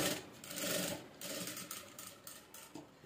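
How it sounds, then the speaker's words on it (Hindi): Sewing machine set to a longer stitch length running through cloth while stitching a straight midi dress, a steady close whirring rhythm that swells and then continues evenly to the end. "ये देखिए हम ना ऐसे करते हुए स्टिचिंग लगाएंगे"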